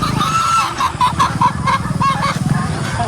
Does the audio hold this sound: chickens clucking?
yes